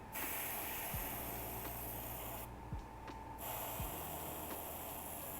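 Airbrush spraying green paint onto a craft piece, a steady close hiss running nearly throughout with a short break partway, plus a few faint clicks and handling noises.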